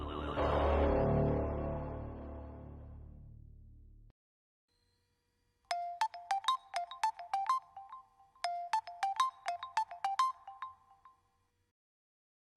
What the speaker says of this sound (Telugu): మేడం ఫోన్ రింగ్ అవుతుంది.